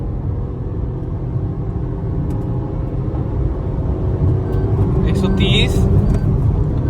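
Maruti Swift and Toyota Glanza hatchbacks drag racing side by side, a steady loud engine and road roar building gradually under a voice.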